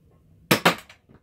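A Nerf Sledgefire blaster is pumped and fired with a shell loaded, giving two sharp, close plastic snaps in quick succession followed by a fainter click, with no talking.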